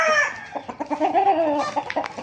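A gamecock rooster clucks and calls up close, its raspy vocalizations rising and falling in short bursts.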